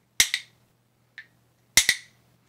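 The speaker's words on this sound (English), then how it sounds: "a double tap is a bounce that sounds like this." Two pairs of sharp, dry clacks from percussion bones, each a quick double-tap bounce, with one faint single click between them and silence around.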